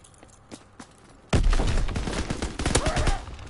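Gunfire in a military video game: after a quiet stretch with a few soft thumps, a loud, sustained barrage of rapid shots suddenly erupts and continues heavy and close to the end.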